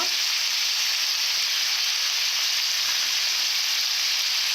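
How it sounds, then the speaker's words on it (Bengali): Shredded cabbage with salt and turmeric sautés in a hot pan, a loud, close, unbroken sizzle with faint stirring and no voices. "ভালো করে নেড়ে নেব এভাবে ভালো করে কষে নেব"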